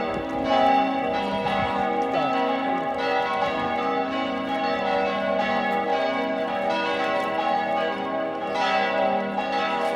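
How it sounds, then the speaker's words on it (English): Bells of the medieval Lutheran Old St. Nicholas Church in Frankfurt chime continuously, with overlapping ringing tones that swell and fade in a steady peal, alone with no talking. "There also is the old St. Nicholas Church, a medieval Lutheran church, of which I managed to capture some bell chimes."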